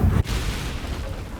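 A deep boom from a Bombarda or Confringo spell explosion in Hogwarts Legacy hits at once, loud and low, then cuts to a rumbling, hissing decay that fades across the next second.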